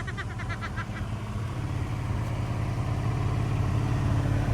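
Small block Chevy V8 in a 1970 C10 truck running steadily after a stuck carburetor float, a close, loud, even idle with rhythmic low pulsing and a brief ticking at the start.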